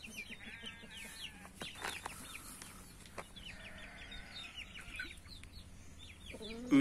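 Chickens in a flock squabble and fight, giving faint scattered clucks and squawks at a distance over a soft background hum, with a sudden loud knock at the end.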